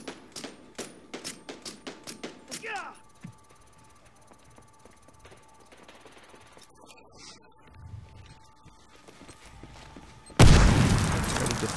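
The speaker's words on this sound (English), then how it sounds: "M32, that's the grenade." Grenade blasts from an M32 launcher in Medal of Honor Warfighter: a string of sharp, evenly spaced booms opens, followed by quieter rumbling game noise and a final loud, sustained explosion roar near the end.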